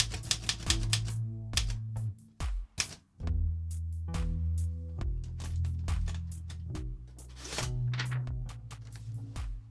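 Three typewriters clatter together in dense, overlapping bursts of key strikes and carriage rattles, with brief pauses and the ring and slide of carriage returns, close and fairly loud throughout.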